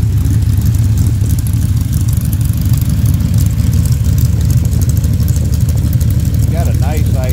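A Pontiac 522 cubic inch all-aluminum V8 with a performance cam idles steadily outdoors, its exhaust pointed outside, a loud continuous low rumble throughout, with a brief higher sound near the end.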